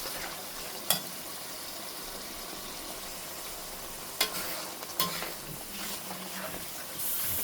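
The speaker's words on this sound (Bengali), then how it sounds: "এই সরিষাটা দিয়ে আমি আবার কষাবো।" Hilsa fish curry with mustard paste sautéing in a pan, a steady soft sizzle and hiss throughout, broken by a few sharp clinks of a spoon stirring against the pan.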